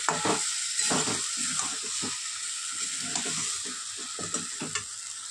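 Kashmiri dum aloo masala with ground coriander and a splash of water is stir-fried in a pan, a steady close sizzle broken by repeated scraping strokes of a spatula throughout.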